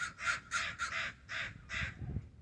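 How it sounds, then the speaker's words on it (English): Crows at a public marina in Eureka caw loudly, about six harsh calls in an uneven rhythm, close by, over faint low background rumble. "See, the crows agree."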